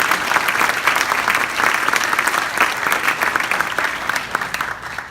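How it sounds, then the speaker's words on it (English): Sustained applause from a banquet audience at a high school volleyball awards dinner, dense and steady for the full length with no clear voices over it. "give her a round of applause"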